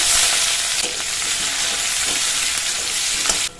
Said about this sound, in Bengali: সরষের তেল দিয়ে দেবো কড়াই, গোটা জিরে, একটা বড় সাইজের পেঁয়াজ কুচি।